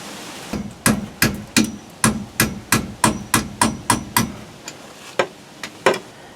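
Steady series of sharp hammer blows, about a dozen in quick even rhythm, then a few slower, lighter strikes trailing off.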